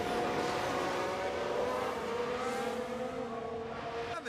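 Formula 1 race cars led by Lance Stroll overtaking several rivals, a faint continuous engine whine with shifting pitched tones as cars pass, no voices.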